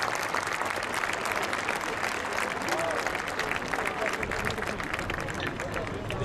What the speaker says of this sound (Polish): Wielkie brawa dla grupy Ultras.